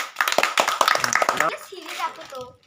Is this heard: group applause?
yes